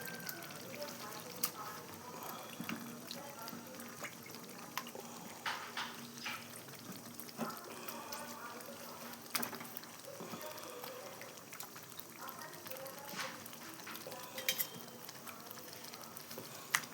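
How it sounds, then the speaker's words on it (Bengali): Meat frying in a pan of cooked spice masala gives a faint, steady sizzle with occasional stirring clinks, low and continuous throughout, with no talking. "মশলা কষা হয়ে গেছে। এবার আমি মাংসটা দিয়ে দিচ্ছি।"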